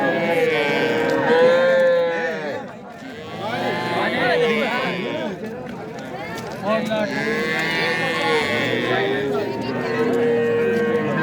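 Many calves and cattle moo and bellow over one another in a busy livestock market in Uzun district, with people's voices murmuring underneath.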